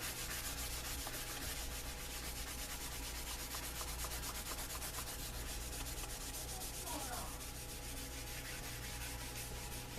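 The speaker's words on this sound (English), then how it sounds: "I can start buffing it." A leather knife sheath is buffed by hand, a steady close rubbing and scuffing sound that continues without pause over a low background hum.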